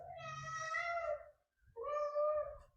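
A cat meows twice up close indoors, two drawn-out, clearly voiced calls separated by a brief pause.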